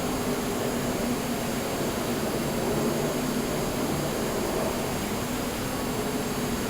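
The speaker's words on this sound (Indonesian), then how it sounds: "Kapten memutuskan tetap melanjutkan take-off." Jet airliner engines roar during a dramatized takeoff roll, a steady, loud broadband rush and whine that holds at an even level throughout with no voices.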